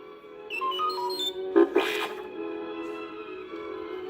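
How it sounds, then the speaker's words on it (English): Soft electronic beeps and chirps from the R2-D2 droid in a short warbling burst, with a brief louder flurry midway, over a quiet steady hum. "R2-D2 beeped softly."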